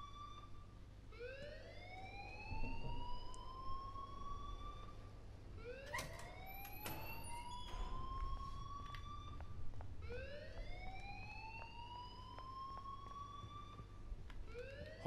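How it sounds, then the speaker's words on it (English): A school alarm siren in the video game Life Is Strange wails in repeated rising sweeps, a steady cycling tone that carries on at moderate volume without talk over it. "please turn off that alarm since that's your job"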